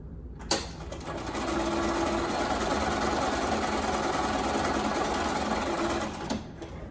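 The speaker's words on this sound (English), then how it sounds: "we're gonna go ahead and sew that together on the other side of the stem" A sewing machine stitches quilt block pieces in one continuous run of rapid mechanical whirring, starting after a brief click and stopping near the end, with no talk.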